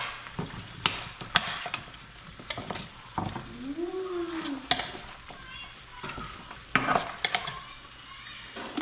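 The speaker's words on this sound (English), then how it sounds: "Just give it a little stir." A spoon stirs cow foot and beans in a pot, scraping and clanking against the metal in loose strokes over a soft, steady sizzle, close and moderately loud.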